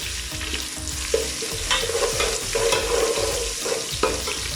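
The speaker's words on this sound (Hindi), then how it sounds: "लहसुन को हमने 30 सेकंड के लिए फ्राई कर लिया।" Garlic and ginger fry in a pan for keema pulao, giving a steady sizzle with stirring clatter and a few sharper scrapes throughout, with no talking.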